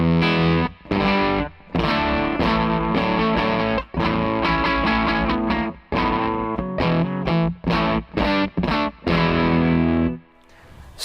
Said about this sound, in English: let's just recap on what the pedal sounds like on its own with a bit of gain.